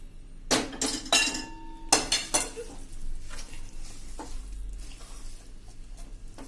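A spoon clinks and scrapes against a pan while stirring and mixing Kutchi adadiya ingredients, with a handful of sharp metallic knocks early on, then softer scraping that fades out.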